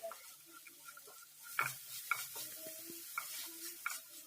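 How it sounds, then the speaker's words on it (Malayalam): Chopped onions and green chillies sautéing with salt, a spatula scraping and stirring in a pan with sharp clinks every half second or so over a soft sizzle, close and moderately quiet. "പിന്നെ 1 ടീസ്പൂൺ ഉപ്പും കൂടി ഇട്ട് നന്നായിട്ടൊന്ന് വഴറ്റി കൊടുക്കാം."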